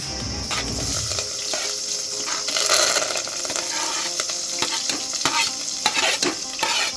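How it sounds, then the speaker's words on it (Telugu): Curry leaves and onions hit hot oil for an egg fry and sizzle loudly, with continuous frying hiss and stirring scrapes close by throughout, and no voices. "ఇప్పుడు కరివేపాకు, ఆనియన్స్ వేసేద్దాం మొత్తం."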